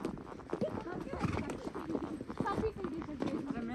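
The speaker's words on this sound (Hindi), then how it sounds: "आगे से घोड़े भी आ रहे हैं" Horses approaching on a trail in Kufri, hooves clip-clopping in a steady, close rhythm throughout under continuous talking.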